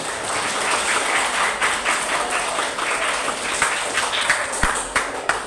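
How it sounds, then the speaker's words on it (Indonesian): Applause for a student at a school teaching practice session, a steady wash of clapping from a room of people with a few sharper individual claps standing out near the end. "tepuk tangan untuk Mas ya."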